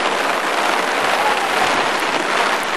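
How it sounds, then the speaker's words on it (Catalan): Heavy downpour of rain pounding steadily during an October flash flood at a ravine, a dense, continuous hiss that stays loud and close throughout with no voices. "És que està caient el diluvio"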